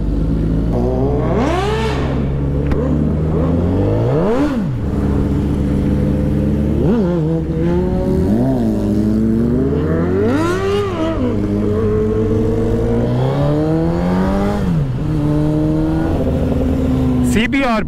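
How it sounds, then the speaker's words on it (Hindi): Loud Honda CBR sport motorcycle engine revving repeatedly in rising and falling sweeps, close and continuous for the whole stretch, with other bikes nearby and brief voices underneath. "CBR बहुत लाउड है यार,"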